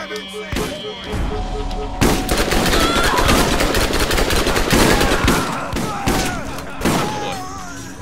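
Shotgun blasts in the video game Borderlands amid a loud, dense firefight, with heavy booming shots and chaotic gunfire over several seconds, and voices talking underneath.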